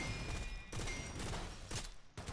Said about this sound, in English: We're shooting robots and they blow up spectacularly and loudly